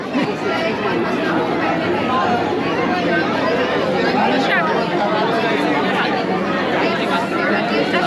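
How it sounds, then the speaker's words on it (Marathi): Dense crowd chatter fills a busy outdoor food and farm fair, the Bhimthadi fair in Pune, a steady hubbub of many overlapping voices at close range throughout with no break. "इथं जास्त गर्दी."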